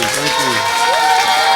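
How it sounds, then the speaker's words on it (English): Talk-show audience cheering and applauding together, a loud dense crowd roar with shouts and whoops and sustained clapping throughout, voices rising over the clapping. "Applause, everybody."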